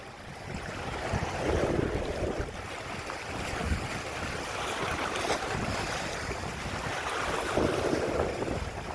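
Sea swell surging and washing over exposed coastal rocks, a steady broadband wash with rises and falls as waves break and draw back, mixed with wind buffeting the microphone, no talking.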